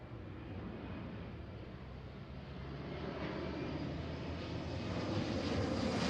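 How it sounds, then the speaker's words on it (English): SkyWest Embraer 175 regional jet arriving from Portland and landing at Seattle, a loud, steady roar of jet engines that builds slightly as the aircraft passes close, with no talk. "Okay, here's our flight from Portland, 175. This is SkyWest 3078."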